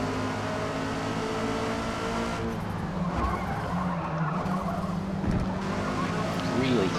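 Race cars skid through a crowded, chaotic pile-up in the Forza Motorsport racing game. Droning engines and tyre scrub run continuously at a steady, moderate level, with swelling skid noise in the middle.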